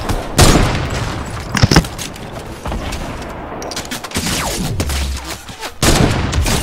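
Rapid in-game gunfire from a Fortnite match, with sharp repeated shots and bursts scattered across several seconds, some close and loud, with a low boom near the end.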